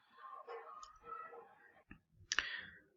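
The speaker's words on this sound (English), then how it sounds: "And once I've typed that in and I get this stuff come up" Keys on a computer keyboard being tapped to enter a web address, a quick run of close, crisp clicks with short pauses and one sharper burst of keystrokes near the end.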